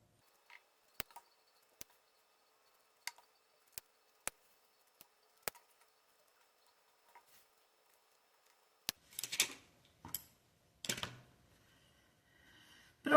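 Scissors cutting through fabric and lining at the four corners of a box-style zippered pouch, sharp isolated snips spaced out at first, then a few denser, rustling cuts near the end, fairly quiet.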